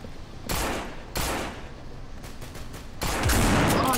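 Gunfire in the zombie video game No More Room In Hell comes as several loud, sharp bursts of shots separated by quieter gaps, with the last volley the longest.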